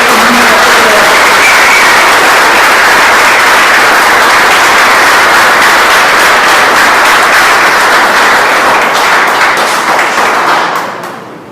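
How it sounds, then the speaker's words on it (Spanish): Church congregation applauding together in a long, steady, loud wash of clapping that continues for about ten seconds before fading at the end, with no talk over it. "Entonces démosle un aplauso a ese Rey de Reyes."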